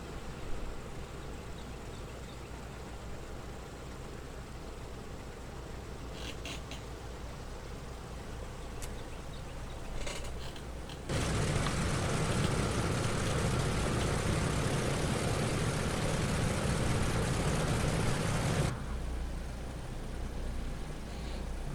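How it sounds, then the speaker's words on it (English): Piston engine of a Douglas DC-6B airliner in Microsoft Flight Simulator 2020, a steady low droning hum that jumps louder partway through as another engine comes up, then drops back, with no talk. "Okay, engine 1 is started up."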